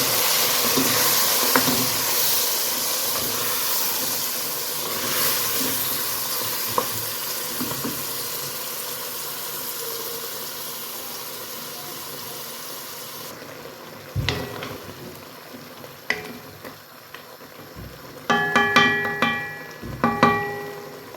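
Bell pepper, garlic and onion fry in a pan with a steady sizzling hiss, broken by occasional stirring scrapes and utensil clinks that grow sharper toward the end; no one speaks.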